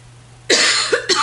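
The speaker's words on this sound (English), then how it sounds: "now I'm gonna cough" A single person coughs up close, one loud harsh burst followed by two shorter coughs, in a quiet indoor setting with a steady low hum underneath.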